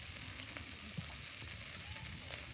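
Oil sizzles and fries steadily in a pan while turmeric goes in for a vegetarian cucumber curry, a continuous even hiss at moderate level with no voices over it.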